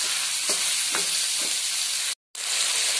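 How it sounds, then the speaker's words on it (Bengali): Chicken mince frying in a pan for a chicken patisapta filling, a loud steady sizzle with a few soft stirring scrapes and a brief cut near the end, with no voices. "কিমাটা ফ্রাই হয়ে এসছে, আমি এটাকে আর একটু শুকনো করবো"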